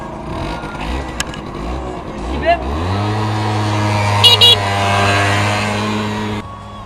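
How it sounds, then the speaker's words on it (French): An MBK Booster One scooter, a 2017 model, is kick-started. Its small engine catches and settles into a steady, close buzzing idle while a voice talks over it. "Un coup de pied. Et il démarre."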